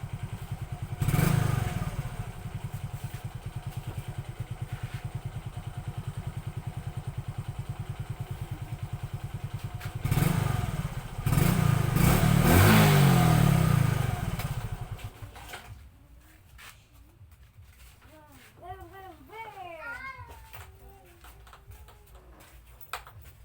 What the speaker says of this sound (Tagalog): Sakay ko sa motor.